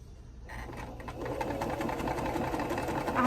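A sewing machine stitches quilt block pieces in a steady, fast whirring run that starts abruptly and grows slightly louder, close and alone with no voices.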